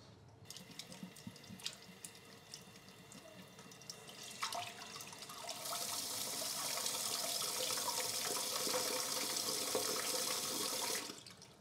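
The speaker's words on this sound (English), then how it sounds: "I'll turn the water back on just a little bit so you can see what I'm talking about" Water from a toilet fill valve runs into a cup, starting with faint trickles and drips, then swelling after a few seconds into a steady, close hiss of flowing water that stops abruptly at the end.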